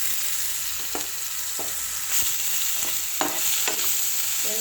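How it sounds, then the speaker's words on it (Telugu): Onion paste and cumin fry in hot oil, giving a steady, even sizzle with a few soft clicks and scrapes of stirring, close by and without voices. "దీంట్లో కొంచెం జీలకర్ర వేయాలి, ఉల్లిగడ్డ పేస్ట్ వేస్తున్నాను"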